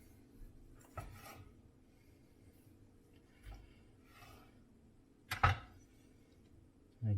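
A knife slices through sticky pork belly burnt ends on a board, heard as a few quiet, scattered scrapes and soft cuts with a firmer knock toward the end, all close and otherwise near-silent.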